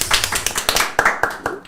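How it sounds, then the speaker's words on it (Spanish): A studio audience claps in a short burst of scattered, fairly close applause, with separate hand slaps audible as people welcome a guest on a Chilean regional political talk program. "¡Aplausos!"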